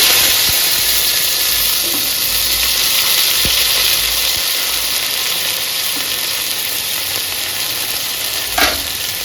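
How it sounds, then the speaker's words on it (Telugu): Nalleru (veld grape) stems fry in hot oil in a village kitchen, giving a steady, loud, continuous sizzle throughout with a faint clink near the end. "ఈ ఆయిల్లో ఆయిల్లోనేసి బాగా ఫ్రై చేసుకోవాలి"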